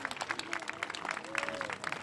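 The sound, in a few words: audience applause for honored guests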